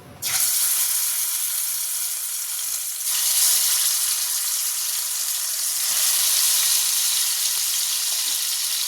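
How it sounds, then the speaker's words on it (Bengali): Chicken pieces for chicken chap go into hot oil in a small kadai with a sudden loud burst, settling into a strong, continuous close frying hiss that surges again partway through, with no voices. "তেল গরম হয়ে গেছে, এবার চিকেনগুলো দেবো।"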